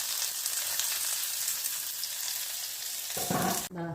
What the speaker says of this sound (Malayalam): ചെറിയ ഉള്ളി വറുത്തിടാം